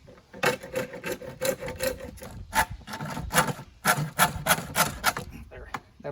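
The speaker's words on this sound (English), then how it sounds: "Get that sandpaper and sand it down." Sandpaper scrubs a pipe fitting by hand in quick uneven back-and-forth strokes, a close, dry rasping that comes in short bursts with brief pauses between.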